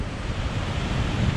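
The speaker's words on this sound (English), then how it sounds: "this cascading water that was coming down from Lindley Wood Reservoir." Cascading overflow water from Lindley Wood Reservoir pouring down into the Washburn River, a steady, dense roar of rushing water that holds at an even loudness throughout, with no voices.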